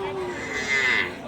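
Red Sahiwal calves at a new cattle market in Joypurhat give a single drawn-out moo that rises and holds, close and clear with no talk over it.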